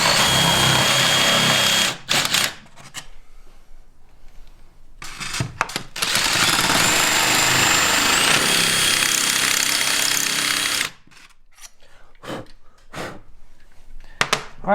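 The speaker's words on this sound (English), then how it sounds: "and just drill through." A power drill boring through the roof of a Jeep Gladiator to mount a Rhino Rack Backbone system, with loud sustained whirring runs broken by short pauses, then choppy bursts near the end.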